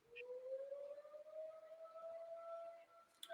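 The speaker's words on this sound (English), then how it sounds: "Oh, you hear the sirens? Oh, is that a siren?" A faint, distant siren wails steadily, its pitch slowly rising and holding over a quiet background.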